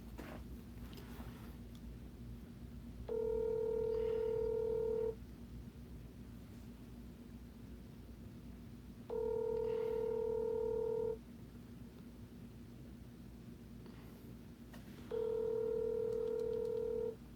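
Ringback tones of an outgoing phone call, three evenly spaced two-second ring bursts about six seconds apart over a low background hum, with no voices.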